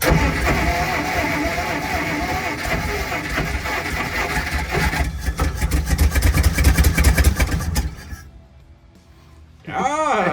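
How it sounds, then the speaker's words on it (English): An old Jeep Forward Control inline six, parked for 40 years, cranks and runs with a rough, loud clattering idle, then cuts out into near silence before a voice speaks over the quiet at the end. "It sounds like an old inline 6"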